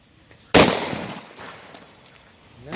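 A single Jallikattu kaalai firecracker bursts outdoors with one sharp, loud bang, followed by a fading rumbling tail and faint crackles, then a softer noise at the end.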